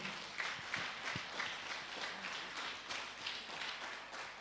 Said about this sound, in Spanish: aplauso para 3 personas, por favor